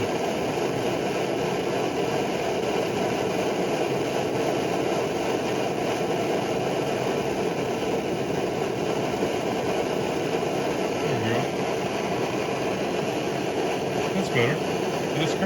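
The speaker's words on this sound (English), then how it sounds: "Hear that slight chugging still going on?" A Primus Omnifuel stove burner roars steadily at low flame, its constant close hiss and rumble carrying a faint slight chugging, with someone talking over it throughout.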